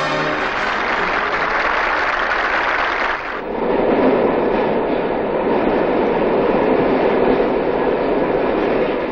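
A Moscow metro train rumbles loudly at the newly opened Kaluzhskaya station in 1974, then shifts into a steady roar of rolling wheels as it pulls away from the platform.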